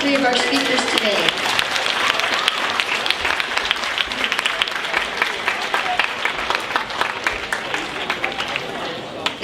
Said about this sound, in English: Let's have a big round of applause for all three of our speakers today.